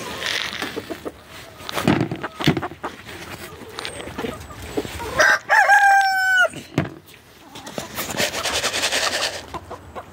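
A rooster in a backyard flock of Ameraucana and other chickens crows once, loud and near, amid clucking, rustling and footsteps on a slushy, wet yard after rain.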